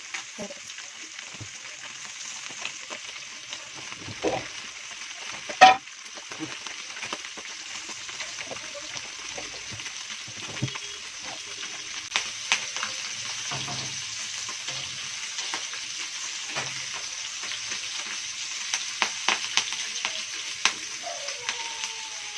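Small nethallu fish with curry leaves fry in a pan with a constant soft sizzle, while occasional sharp clicks and scrapes mark the fish being turned carefully.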